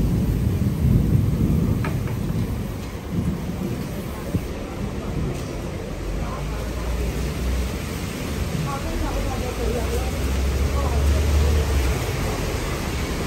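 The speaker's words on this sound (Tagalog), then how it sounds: "heavy ang ulan, pero may payong naman." Heavy rain falls steadily in Macau on the way to Senado Square, a dense hiss throughout the street scene, with low rumbles that may be thunder and people talking faintly underneath.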